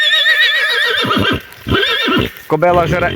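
A pregnant mare whinnies loudly in a long, wavering call, then breaks into a second shorter neigh near the end, with snorting breaths between.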